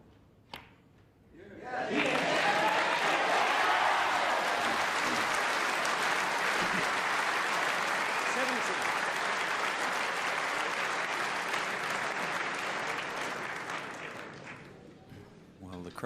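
A snooker audience at the 1994 World Championship final bursts into loud, sustained applause after a shot, swelling within two seconds and holding for about twelve before tapering off, with a commentator talking over it.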